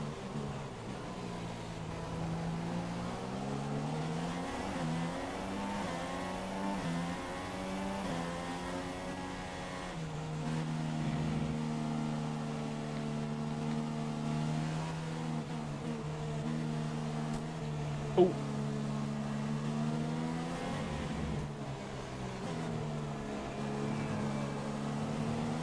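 F1 race cars overtaking in the video game F1 2016 at the Shanghai circuit, with steady high-pitched engine whine shifting pitch as cars rise and fall through the revs, continuous and fairly loud with no talk.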